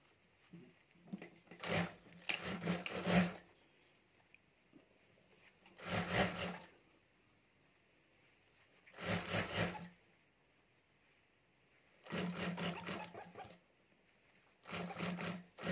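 A sewing machine stitches the side seam of a homemade potali bag in five short, fairly quiet bursts separated by pauses, with faint handling noises in between.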